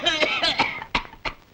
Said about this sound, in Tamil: உங்களுக்கு தான் இருமல் போல் இருக்கு.